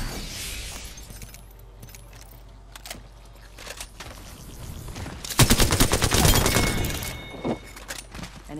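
Gunfire in a first-person squad shooter video game, heard as scattered faint shots and then a denser rapid burst of automatic fire near the middle, with quiet gaps around it.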